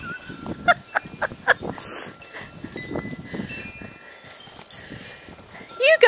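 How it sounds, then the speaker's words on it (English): Dogs floundering through deep snow during a 2011 Oklahoma blizzard let out short yelps and whines in scattered bursts, close by, with a person's voice calling to them at times. "what a couple of wussy dogs"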